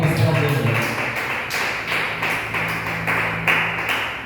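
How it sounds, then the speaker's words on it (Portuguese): A church congregation claps hands for Jesus, a loud, steady rhythmic applause of many hands close by with a sustained organ or keyboard chord underneath. "e palmas para Jesus"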